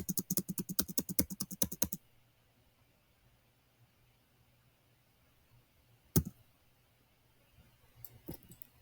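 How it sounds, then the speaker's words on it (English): Rapid clicking of a computer keyboard, with the spacebar struck repeatedly in a quick burst, then near silence broken by a single sharp click and a few more scattered taps. "you can hear the noises from my keyboard, I think."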